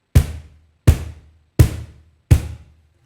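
Deep bass strokes on a cajon, struck with the heel of the hand during a samba lesson: four evenly spaced, round booming thumps, close and clear, each fading quickly, no voices.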